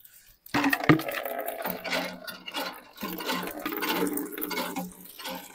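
Water is being collected in a vessel, giving close, splashing and gurgling sounds in uneven bursts after a quiet start, with a faint knock. No one speaks.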